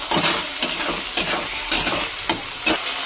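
A small amount of an ingredient frying in a pan, a steady close sizzle broken by repeated scraping stirs at a fairly even rhythm.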